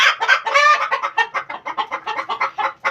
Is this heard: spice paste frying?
no